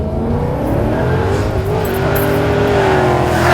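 A Ford Mustang fitted with a Vortech supercharger revs hard and loud, its engine note climbing steadily through the rev range with a rising supercharger whine toward the end.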